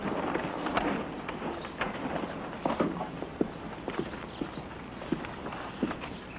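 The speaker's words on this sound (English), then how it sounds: "Pat, take care of the horses, will you?" Horses walking on a dirt street in an old western town, hooves clip-clopping in an uneven, overlapping rhythm at moderate distance, with some scuffing and background rustle and no talk.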